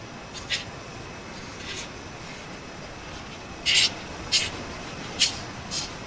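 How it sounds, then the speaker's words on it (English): Short hissing bursts of Liquid Wrench silicone spray hit the rear suspension bolts of a Honda CR-V, several quick spritzes spaced apart over a low background hum. "Now I'm going to go ahead and hit this with a little bit of silicone spray, liquid wrench, just to kind of get them loosened up."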